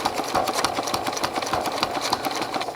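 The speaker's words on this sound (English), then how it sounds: "I just heard my sewing machine make a little sound" A sewing machine runs steadily during free motion quilting of appliqued leaves, a fast rhythmic needle clatter close by with an even mechanical whir and no pauses.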